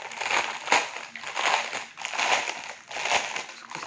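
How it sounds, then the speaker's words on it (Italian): Paper crinkles and rustles up close in repeated bursts, crisp and loud, as if wrapping is being pulled open. "vediamo un po', fa rumore la carta."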